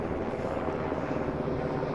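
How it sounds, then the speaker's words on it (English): A helicopter passing overhead near a riverside military base, heard from an observation wheel: a steady, dense rotor rumble that stays constant and fairly close throughout, with no talk. "And what you hear is a helicopter going over."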